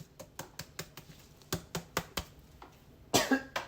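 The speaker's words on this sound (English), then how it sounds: "It makes me cough." A brief harsh cough bursts out near the end, following a run of light rhythmic tapping clicks while cooking with Cajun seasoning; no speech.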